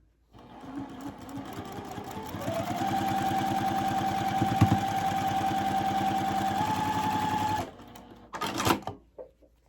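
A sewing machine stitches two quilt fabric units together for a mystery quilt, its steady close motor whir running several seconds at an even pace before stopping, followed by brief handling clatter.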